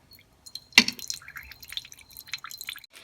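Blended mint chutney water strained through a filter for pani puri: one sharp splash followed by scattered soft drips and trickles, close and fairly quiet.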